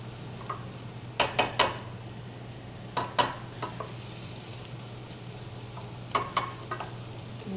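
Vegetables and onions sizzle softly in a pan, under a steady close frying hiss with several clusters of sharp utensil clinks and scrapes as they are stirred.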